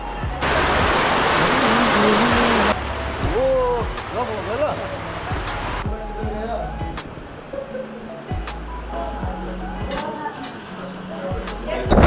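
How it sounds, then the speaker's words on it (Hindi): Heavy rain pours as a dense, steady hiss, loudest early on and then easing to a softer patter, with people talking over it. "अच्छा दिख रहा है यार यहाँ से बारिश"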